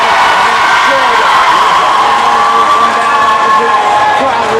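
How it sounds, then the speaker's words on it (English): A crowd at a boys' regional tournament basketball game roars and cheers loudly and continuously, with shouts and whoops rising above the din and voices talking through the noise. "Crowd roar."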